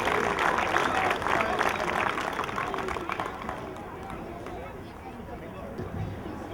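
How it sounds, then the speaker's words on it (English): A youth baseball league crowd gives pitch, hit and run champions a round of applause at the season opening, moderate outdoor clapping mixed with chatter that fades over a few seconds while voices murmur. "So big round of applause for these pitch, hit, and run championships."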